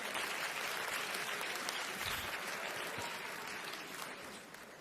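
Sustained applause from a large commencement audience honouring faculty, staff and administrators, dense and even, fading slightly toward the end with a faint voice beneath.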